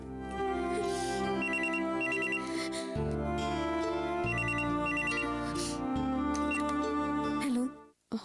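A telephone ringtone plays as a steady melodic electronic ring for several seconds and then stops abruptly, with a faint voice at the very end.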